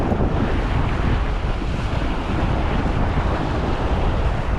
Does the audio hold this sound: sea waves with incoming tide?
yes